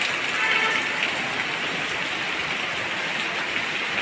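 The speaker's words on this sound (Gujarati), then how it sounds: "કેવો વરસાદ વરસી રહ્યો છે" Heavy monsoon rain pours steadily in a dense, even hiss that stays constant and fairly loud throughout, with no voices.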